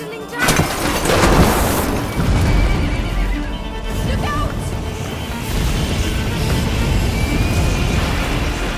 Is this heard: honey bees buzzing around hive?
no